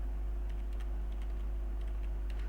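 Computer keyboard typing an address into a form, a steady run of light, quick key clicks over a constant low electrical hum, close and alone without talk.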